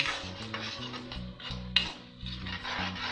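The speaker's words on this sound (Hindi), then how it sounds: "सबको मिक्स कर लेंगे" A spoon scrapes and stirs ground spices such as coriander, red chili, Kashmiri chili, turmeric and cumin powders together in a pan for masoor dal, with steady rhythmic strokes over a low humming background.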